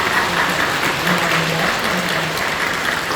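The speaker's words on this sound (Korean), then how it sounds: "여러분들 뜨겁게 박수로 환영해 주시기 바랍니다" Loud, dense applause from a church audience welcoming someone at a Korean praise and worship service, steady and sustained throughout with no speech over it.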